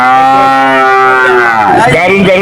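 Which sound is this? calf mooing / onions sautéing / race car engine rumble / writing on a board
calf mooing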